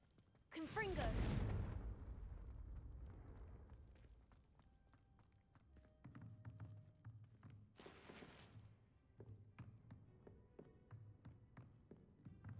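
A Confringo blasting spell goes off in Hogwarts Legacy, a loud, short burst of explosive whoosh at the start, followed by quieter footsteps and taps, with a second sharp burst later.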